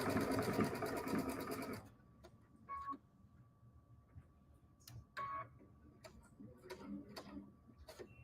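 A sewing machine runs fast and loud, stitching minky fabric for about two seconds, then stops, followed by quiet mechanical ticks, clicks and handling noises nearby.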